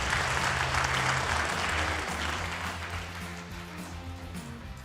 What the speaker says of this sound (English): would love a quick round of applause for this excellent panel